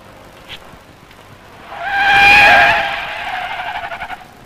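A Citroen car brakes hard in a repeated-stop brake test, producing a rising tonal squeal that swells to a loud peak, then tapers into a fading, wavering screech.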